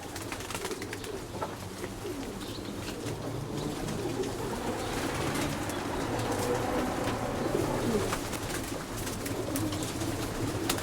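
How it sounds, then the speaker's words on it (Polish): Racing pigeons bred for middle and very long distances coo steadily in a loft, a dense continuous murmur of overlapping calls close by with occasional wing flutters and no talk. "Są to gołębie na średnie i bardzo dalekie dystansy."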